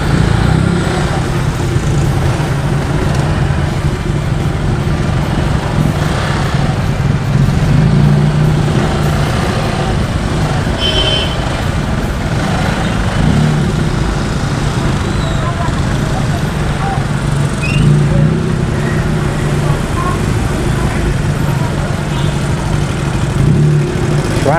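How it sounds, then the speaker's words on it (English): Road traffic behind the town hall in Davao City, a steady low rumble of engines and idling trucks and cars at moderate distance, continuous throughout with faint voices mixed in. "Traffic at the back of the town hall."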